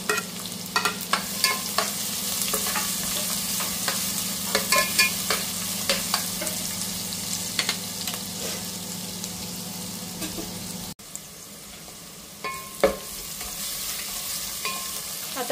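Finely chopped onions fry in a hot cumin and garlic tempering for an ambada bhaji, a steady close sizzle broken by repeated scraping stirs, with a brief dip in level partway through.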